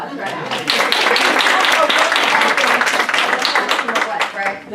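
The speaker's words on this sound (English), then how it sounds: "can everybody give them a round of applause, right?" An audience at a panel discussion claps in a dense, sustained round of applause that swells and then tapers off, with voices talking over it.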